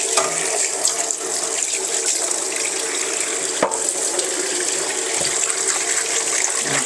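Tap water runs steadily into a kitchen sink as an iron wok is washed after cooking, a continuous close splashing stream with one brief clunk partway through and no talking.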